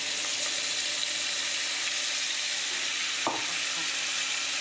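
Tomato and onion paste fries in hot oil with potatoes and onions in a pan, a loud steady sizzle close by with one brief clack of a utensil, no talking.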